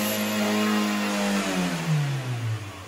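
A Chery Tiggo engine revs up close during a throttle body cleaning with WD-40, giving a loud, steady mechanical drone whose pitch slowly sinks as the revs fall away.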